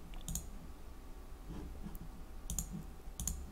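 Computer mouse clicks on an update button, a few sharp, quiet clicks in close succession, isolated against low room hum.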